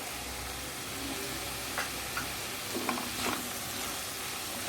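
Grated fresh coconut stirred into frying radish, a spoon scraping the pan in a few soft strokes over a steady, quiet sizzle.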